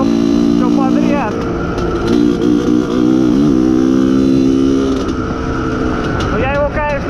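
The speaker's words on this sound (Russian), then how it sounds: "Какой кайф, этот мотор ездит, это вообще просто, блин, бомба." Loud and close, the Izh Planeta Sport motorcycle engine runs during break-in, its droning note swelling and dipping with several quick revs while someone speaks over the engine.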